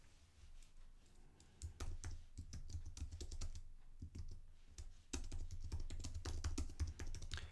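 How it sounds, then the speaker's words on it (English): Fingers type on a computer keyboard to enter text in an interactive presentation, close and clear, with bursts of rapid clicky keystrokes broken by brief pauses and a dense flurry near the end. "We could type in"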